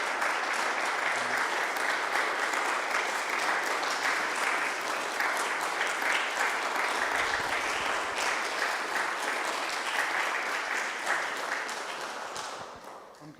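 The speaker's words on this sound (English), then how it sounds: "So can we give a round of applause," Sustained applause from an audience at an evening lecture, a thick steady wash of clapping that continues for the whole stretch and tapers slightly at the end.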